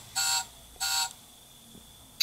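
Two short electronic beeps from the alarm of a toy Mercedes-Benz G65 car sound close by in quick succession, followed by quiet and a final brief blip.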